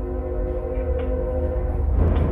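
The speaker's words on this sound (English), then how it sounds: "A lot of train action on this bridge." A train rolls across a bridge above a rainy camp spot, giving a loud, steady droning rumble with sustained tonal humming from wheels and structure. Near the end it swells slightly, with no voices.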